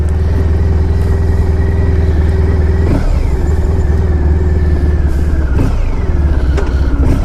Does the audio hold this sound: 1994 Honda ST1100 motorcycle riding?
yes